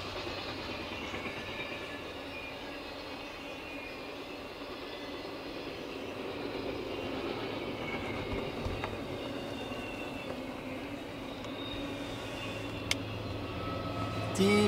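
A big CSX freight train rolls past with a steady rumble and clatter of wagons on the rails, continuous throughout at a moderate distance, with a few faint squeals and clicks but no talking.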